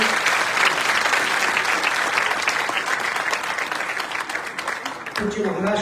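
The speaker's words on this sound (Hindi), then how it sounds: "एक बार तालियों से महाराज श्री को धन्यवाद करते हैं।" An audience at a devotional gathering at a Ram temple bursts into loud, sustained applause to thank a visiting spiritual leader, dense clapping that fills the space before cutting off, with a voice starting to speak at the end.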